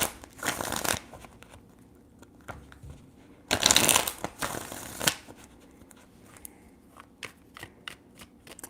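Tarot cards being shuffled by hand in several separate bursts of riffling and sliding, close and crisp, with quieter card taps between them and no talk.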